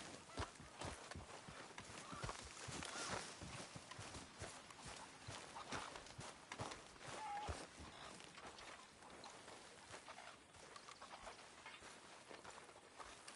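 Rhythmic clip-clop of horse hooves walking at a steady pace, fairly close, with faint background ambience and no talking, in the video game Red Dead Redemption 2.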